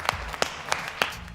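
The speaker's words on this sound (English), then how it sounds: "the actor suddenly started to clap his hands slowly" A single person claps slowly and deliberately, four evenly spaced claps about a third of a second apart, close and isolated, in a police station scene of a film.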